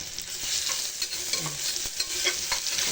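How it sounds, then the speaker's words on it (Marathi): Chilies and garlic fry in hot oil for a village-style greens dish, giving a steady close sizzle with bursts of crackle and stirring, with no voices. "तेल छान तापलं बघ मिरची लसूण टाकायचं"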